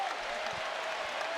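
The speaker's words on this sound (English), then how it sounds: "Oh, the crowd has really come to life." A basketball arena crowd at a college game cheers and applauds in a steady dense roar that stays at even loudness throughout.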